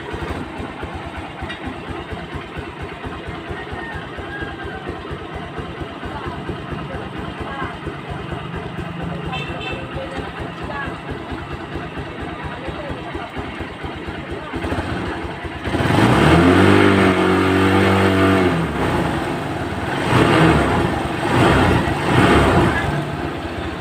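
Honda Supremo motorcycle engine idling, then revved hard with the throttle halfway through, growing loud and rough with rising and falling pitch before easing back. Faint talk is heard under the idle.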